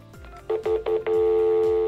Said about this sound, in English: To activate call forwarding, pick up your landline phone and dial star 72.